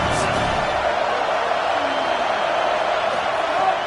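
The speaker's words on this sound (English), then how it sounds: "Big 3rd down as the crowd gets behind this defense." A stadium crowd in a football video game roars loudly on a big third down, a dense, steady wall of cheering with no break.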